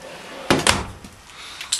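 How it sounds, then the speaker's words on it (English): An RV cabinet drawer on ball-bearing full-extension guides in a 2012 Spree 220KS travel trailer slides and bumps shut. One close thud with a short rattle and a lighter knock after it, with no talk. "all of the KZ drawers are ball bearing drawer guide, full extension with real wood"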